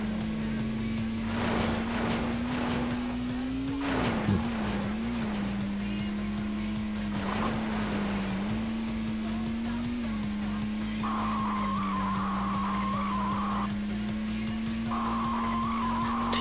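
An AI-driven race car loses control and skids in Test Drive 4 during a Championship Cup race, a steady engine drone running throughout with screeching, scrabbling tire noise around the spin and a high tonal whine later.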